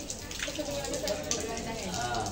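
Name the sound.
water running from a tap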